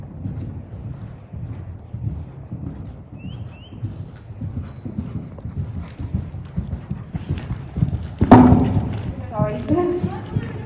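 A young horse canters over ground poles during a showjumping lesson, hooves thudding in a steady rhythm amid wind noise, with a louder knock near the end.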